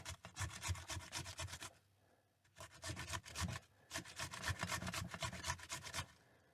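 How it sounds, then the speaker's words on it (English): A potato is hand-grated for hash browns, giving steady rhythmic rasping strokes in two bursts with a short pause between them, close and fairly quiet, with no talk. "I just keep turning the potato as I grate it."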